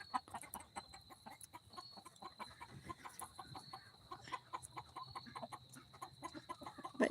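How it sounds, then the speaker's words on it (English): Chickens on a small farm cluck in a steady scatter of short, faint calls, with fowl nearby and soft background noise and no talking. "this chicken is just looking at me. It's giving me the chicken eye."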